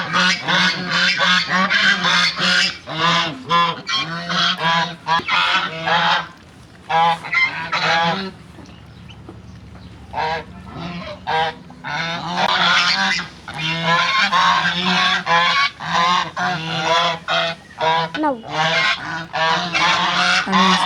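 A flock of geese honks loudly and repeatedly nearby while being fed a mix of rice and rice bran. The bursts are overlapping and clamorous, with a short lull in the middle.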